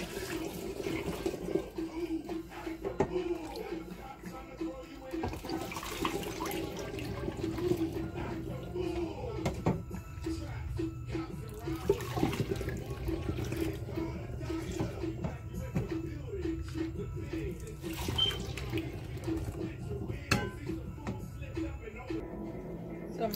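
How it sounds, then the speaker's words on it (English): Homemade Guyanese mauby drink pours steadily from a pot into a bottle, a continuous liquid splashing and trickling at close range that runs throughout, with a voice talking over it. "pour it off into the bottle."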